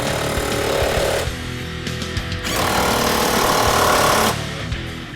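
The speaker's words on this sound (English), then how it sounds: "Now we'll retighten the subframe bolts." An impact gun on a 2015-2023 Mustang fastback fitted with a Ford Performance Track Handling Pack runs in two loud, sustained bursts as it retightens the subframe bolts. A short pause separates them, and no one talks.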